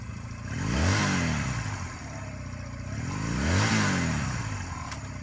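A Honda Rebel motorcycle engine revs up twice, each rise climbing in pitch then falling back, with a steady idle rumble in between and no voices.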